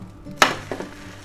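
A spatula scrapes and knocks against a pan as a grilled egg, ham and cheese sandwich is flipped, one sharp clatter followed by a softer thud, with no talking.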